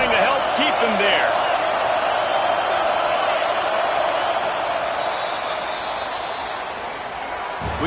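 A large college football stadium crowd roars in a steady, dense wash of cheering that holds loud and level throughout, with a few whoops near the start.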